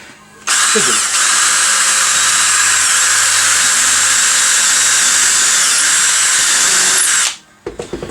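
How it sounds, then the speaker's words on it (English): A power drill whines steadily at high speed for several seconds, loud and close, then stops abruptly with a few faint clicks afterward. "I'm drilling a pilot hole just because"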